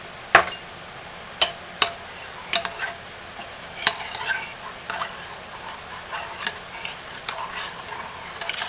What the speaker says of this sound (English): We're going to stir well.